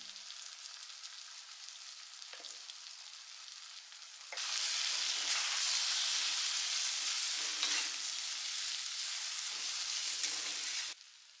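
Onion and spices sautéing in a pan, a steady sizzle that jumps louder midway as more goes in, then drops back at the end, with no voices.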